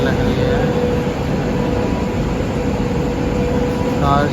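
Car carrier freight train rumbling past on a rail journey through Rajasthan, Madhya Pradesh and Maharashtra, a steady broad roar of wheels and wagons with faint squeals near the end, no talk.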